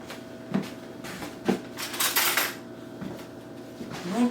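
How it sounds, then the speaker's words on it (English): A spoon scrapes and knocks inside a cut pumpkin while seeds are scooped out, giving a few distinct clunks and a longer scraping rustle over quiet kitchen room tone. "I'm going to scoop out the seed inside."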